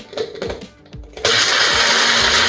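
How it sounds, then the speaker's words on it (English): An electric grinder whirring at full speed as it grinds roasted fennel seeds and other spices, starting after a few short rattling pulses and then running loud and continuous. "grind these spices together"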